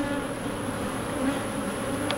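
A steady swarm of honeybees drones close by at a beehive being split, a continuous layered hum with no voices.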